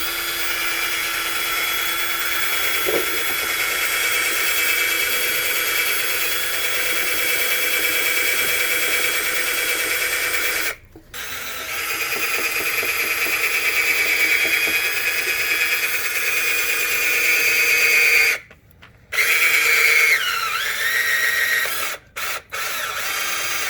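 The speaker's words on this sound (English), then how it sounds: "what I'm going to do is drill it on the side here, so near where the bolt is" A power drill whines steadily at close range, drilling beside a transmission pan bolt on a Hummer H2, running for long stretches with a few brief stops and restarts near the end.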